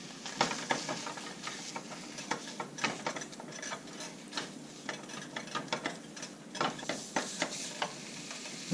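Just over a pound of grass-fed ground lamb frying in a pan, with steady sizzling under repeated close scraping and stirring strokes as the meat is broken up.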